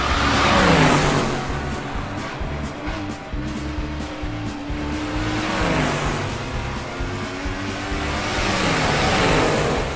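Cartoon race cars rev and accelerate off the starting line, a continuous loud engine roar that swells and dips over several seconds with rising motor whine, alone without talk.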